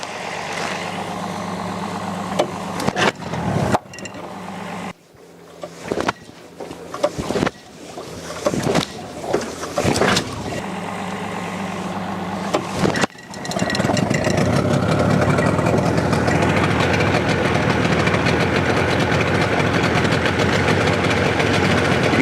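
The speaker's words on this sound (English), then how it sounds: "So now I'd like to show you the cold starting procedure on a conventional two-stroke outboard." A conventional two-stroke outboard motor running a 50:1 fuel-oil mix is cold-started with the choke out: several rough, sputtering pull-start attempts broken by pauses, then the engine catches and settles into a loud, continuous, steady idle.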